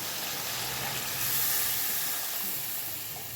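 Water hissing and sizzling loudly as it is poured into a hot pan of mustard and green chillies, a steady bright spray of steam noise lasting a few seconds with no talk.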